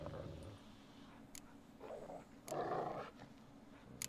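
Dogs growling in the video game The Witcher 3: Wild Hunt: low, rumbling growls that swell and fade over a steady murmur, faint and somewhat distant, with no talking.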